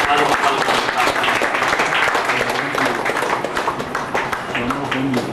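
An audience at a stage function claps in a dense, sustained round of applause, with a voice talking over it.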